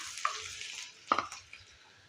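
Onion and curry leaves sautéing in oil with popped mustard seeds, a soft hiss of frying with two distinct stirring scrapes in a pan, near and fairly quiet.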